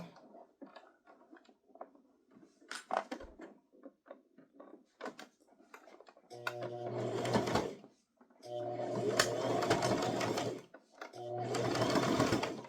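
A sewing machine stitches a toddler crossbody purse shut, running in three loud, steady bursts with short pauses between them, after softer handling and rustling of fabric at the start.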